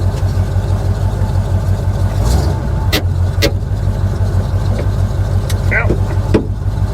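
A 1979 Chevrolet K20 squarebody truck driving in third gear, heard from the cab as a constant loud low engine drone with a few clicks and knocks and some talking.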